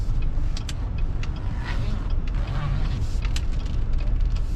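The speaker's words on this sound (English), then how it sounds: "So we're going to do some backwards driving using the backup camera." A 2018 GMC Yukon XL backing slowly into a parking space, a low steady engine hum with road rumble inside the cabin while someone speaks.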